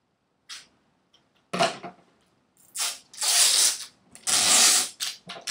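Cling wrap is pulled off the roll in several separate bursts, each a crackling, rasping tear of plastic film, some brief and some longer, close up with quiet gaps between.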